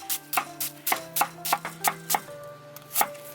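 Onion is chopped on a board for soy sauce pork bulgogi at a campsite, giving about a dozen close, crisp knife knocks in an uneven rhythm, with a faint steady hum beneath and no talking.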